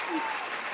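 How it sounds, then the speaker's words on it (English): A studio audience at a comedy quiz show gives a short burst of applause, a dense broadband patter of clapping at moderate level that fills the brief moment. "Can we get an applause, please?"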